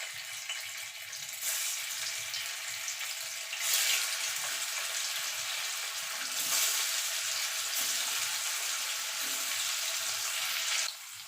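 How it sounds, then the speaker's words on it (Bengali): Paneer fries in hot oil in a pan, a steady bright hiss of sizzling that swells at intervals and runs unbroken for the whole stretch without any voice. "এবার তেলটা গরম হলে পনিরগুলো একটু ভেজে নেব।"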